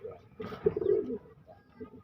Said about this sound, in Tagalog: ito nga pala yung mga ibon natin. Mga inakay.